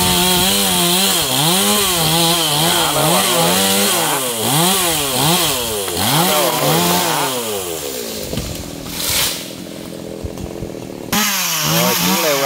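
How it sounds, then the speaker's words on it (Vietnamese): A G4200 chainsaw cuts a large branch of a golden shower tree, its engine loud and close, revving up and down in repeated surging strokes before dropping to a rough idle and then roaring again. "Bắt đầu cưa nhánh to đấy các bạn ơi."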